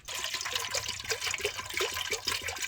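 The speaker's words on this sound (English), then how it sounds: "Put the water." Water is poured into a cooking pot before boiling a pork leg. It makes a close, steady splashing and gurgling stream that runs throughout.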